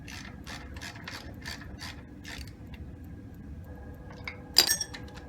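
A Gravely tractor's repaired starter clutch spins, giving a quick run of light ratcheting clicks in the first two seconds that then settle to a quiet mechanical whir, with a sharp clink near the end.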